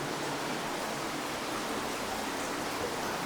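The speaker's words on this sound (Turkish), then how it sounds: "Çünkü bir akıntı sesi var orada. Sanki ufak bir şelale gibi." Steady broadband rush of flowing water, like a small waterfall or stream inside a cave in Zonguldak, continuous and fairly loud with no voices.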